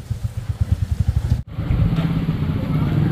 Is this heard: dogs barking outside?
no